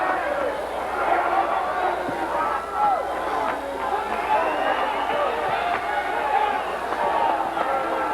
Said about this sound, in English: Crowd trying to get pumped up here in the latter stages of the 12th and final round